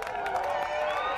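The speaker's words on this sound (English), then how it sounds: "The crowd is getting excited" Excited crowd gathered for the 2017 total solar eclipse in Idaho, a blur of overlapping voices and cheers at moderate distance, steady throughout.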